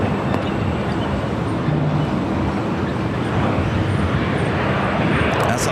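A Boeing 787-8 Dreamliner jet airliner rolls on runway 25 right at LAX, a steady broad engine roar holding throughout at moderate distance, with faint voices in the background.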